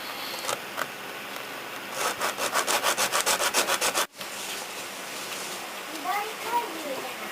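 Filing stick rubbed back and forth on a plastic part of a 1969 Mitsubishi Colt Galant GSII model kit, a close run of quick regular rasping strokes mid-clip, with softer scraping before and after.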